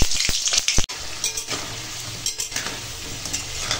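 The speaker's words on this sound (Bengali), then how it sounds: "এখন আলু ভেজে নেব।" Potatoes frying in smoking-hot oil for a Bengali curry with greens, taro, fish and chicken, a steady close sizzle with a few sharp clinks and stirring scrapes at the start.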